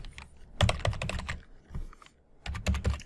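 A password is typed on a computer keyboard in two quick bursts of close, crisp key clicks separated by a short pause, with no talking.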